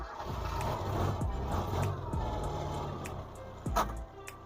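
Suzuki Katana GX 1.0-liter off-road engine revving, captured from inside the cabin: a steady, loud low rumble runs throughout with a few sharper knocks and a brief surge near the end.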